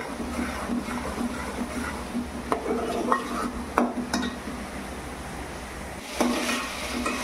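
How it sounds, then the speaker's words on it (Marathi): Onion paste fries in a pan for chicken biryani, giving a steady, close sizzle with occasional clinks and scrapes of a spoon stirring against the metal. "म्हणून मी आता कांद्याचं पेस्ट मस्तपैकी भाजायला घेतलंय"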